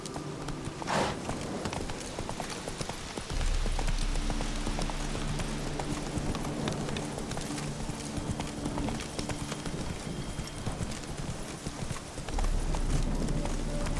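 Roach the horse from The Witcher 3 clip-clops in a steady, loud hoofbeat rhythm through most of the stretch, with a brief whinny near the start and music underneath.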